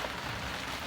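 Rain falling on an old boat on the Neuse River, a dense steady patter of drops hissing on the deck and canvas cover, close and even, with no voices.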